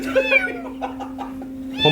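A kitten meows in short, high cries from inside a car's engine compartment, several calls spaced over two seconds, with a steady low hum underneath and people talking nearby.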